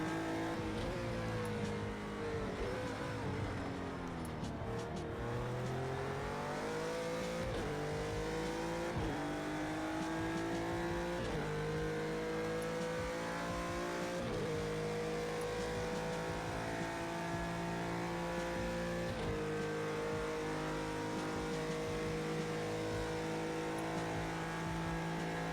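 GT3 race car engine in Project Cars 2 at Bathurst, revving hard and steady with repeated rising pitch sweeps and sharp drops at each gear change, loud and continuous throughout.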